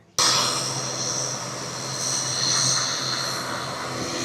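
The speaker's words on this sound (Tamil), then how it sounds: "இப்போ ஃப்ளைட் லேண்ட் ஆகிட்டு இருந்தால்" A fixed-wing airplane landing at Palaly airport, a steady broad roar of engine and propeller noise that starts abruptly and holds loud and close, rising slightly in intensity midway, with no talk over it.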